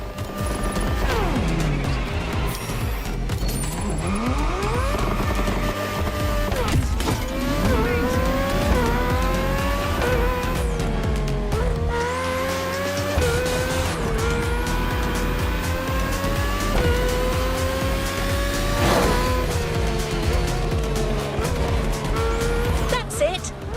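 Race car in a video game practice session, loud engine roaring and shifting through gears with repeated rising whines, tire squeals and skids throughout, and a voice talking over the engine.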